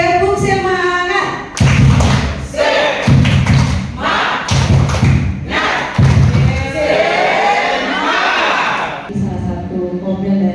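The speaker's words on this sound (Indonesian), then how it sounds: "Tepuk semangat." A seated group at a meeting claps out a rhythmic spirit chant, bursts of loud patterned clapping with thuds and shouted voices, alternating with short stretches of singing and talk.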